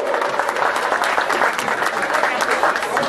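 Steady applause from an audience at a 7 de Setembro Independence Day parade in Itamaraju, Brazil, dense and continuous clapping for the full stretch with a murmuring crowd and some voices underneath.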